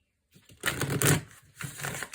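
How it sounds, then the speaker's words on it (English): A deck of cards is shuffled close up after a brief silence, giving a quick riffling burst, a short pause, then a second softer run of flicking cards. "And get a nice shuffle with these cards."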